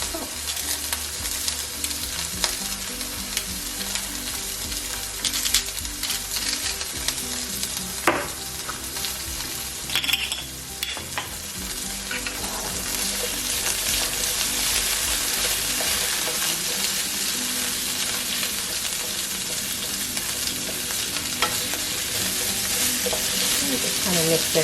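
Vegetables and pasta sizzling and frying in a pan while being stirred, a steady bright hiss with intermittent scraping and clinks, louder and fuller in the second half, without talk.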